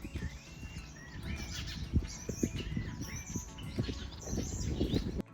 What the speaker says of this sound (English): we saw this incredible black sugar bird